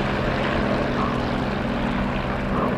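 Warbird propeller plane taking off in DCS World, its engine droning loud and steady throughout with a constant low hum.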